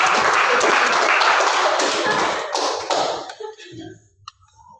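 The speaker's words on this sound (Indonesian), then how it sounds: "tepuk tangan" A group in a school coaching session claps loudly together for about three seconds, then the applause thins out into a few scattered taps.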